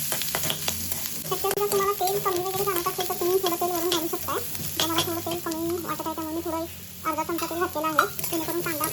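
Onion and coconut roasting in a pan for a Konkani-style cluster bean dish crackle in a continuous, fairly loud sizzle, while repeated clucking or chirping sounds rise over it in the background.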